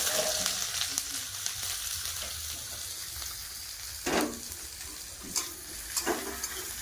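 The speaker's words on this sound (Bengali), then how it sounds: "হালকা করে পেঁয়াজ ভেজেছে" Onions frying lightly in mustard oil in a karahi, a steady close sizzle with a few sharp stirring scrapes near the end; no talking.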